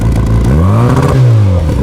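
A turbocharged Mini engine revs twice in quick succession, a loud, close rising-and-falling roar with clattering mechanical undertones, heard alone without talk.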